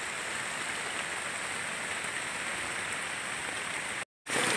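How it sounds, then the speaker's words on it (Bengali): Water running down a forest path in Jhargram makes a steady, dense rush like rain on a surface. It stays continuous and fairly loud, then cuts out briefly near the end. "আমাদের সাথে সাথে জলও নামছে, বেশ একটা অন্যরকম লাগছে।"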